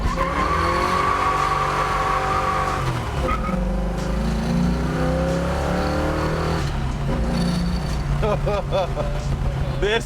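A 1966 Ford Mustang with a built 302 V8 pulls away hard in first gear, engine roaring loud and close with tire squeal and rising revs, voices audible in the background.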